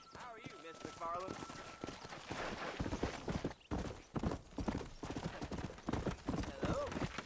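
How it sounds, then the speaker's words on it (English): Horse hooves clip-clopping with a brief whinny in the Red Dead Redemption 2 video game, hoofbeats mixed with other game sounds, a few voices talking over them, and an irregular, fairly busy rhythm throughout. "Control that horse, will you?"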